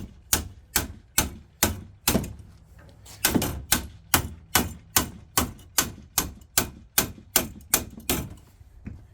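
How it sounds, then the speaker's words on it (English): A metalworking hammer taps a radiused metal edge down over a solid form beneath, sounding as about twenty sharp, evenly paced ringing blows close up, with no talking. "my hammer hitting the form underneath through the metal"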